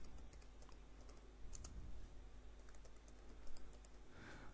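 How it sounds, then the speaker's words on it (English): Quiet, rapid typing on a computer keyboard entering data into a spreadsheet, a run of light irregular key clicks close to the mic with no talk. "if I go into cell A1 again and type in some information"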